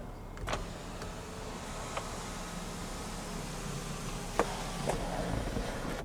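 A 2019 Cadillac CTS Luxury's panoramic sunroof motor runs with a steady, low electric whir that hums on for several seconds inside the quiet cabin, with a few faint clicks along the way.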